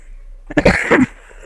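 A short burst of coughing close to the microphone, two or three rough hacks in quick succession against a quiet background.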